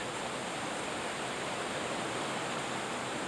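Fast-flowing muddy stream water, swollen and carrying soil along a hiking trail near Daleville, gives a steady broadband rushing roar, constant and even, with no talk.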